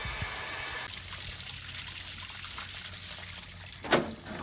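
Water flushes and trickles steadily through the radiator of a 1963 Dodge Polara slant-six, a continuous close wash of running liquid with a brief louder splash near the end.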